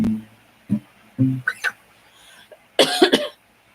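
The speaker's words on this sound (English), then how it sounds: "Still have a little bit of a linger cough" A handful of short, raspy coughs come in irregular bursts close by, the last few clustered together, with quiet gaps between.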